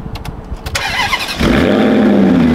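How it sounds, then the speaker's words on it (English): A Maserati GranTurismo MC fitted with a Larini X-pipe exhaust starts and settles into a loud, steady idle with rising revs, preceded by brief clicks and faint talk. "Let's rev it up a little bit. Let's rev it up."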